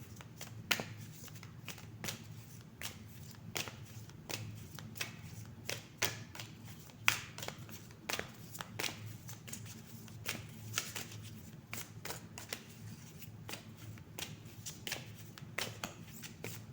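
Tarot cards are shuffled steadily for a card reading, a continuous rapid riffling and flapping with sharper slaps every second or so, close and alone with no talk.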